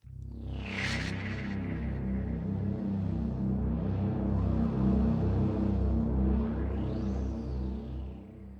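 A low, throbbing electronic drone from a sound pad, with wavering tones and a rising-falling spaceship-like whistle near the end, steady and moderately loud with no talking.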